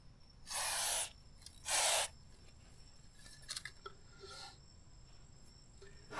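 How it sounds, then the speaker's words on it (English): Two short, loud bursts of Bel-Ray chain lubricant spray hit the chain of a Kawasaki ZH2 motorcycle, each a hissing blast of about half a second. Faint clicks and small rustles follow. "we're going to go ahead and hit it with some chain lubricant by Bel-Ra"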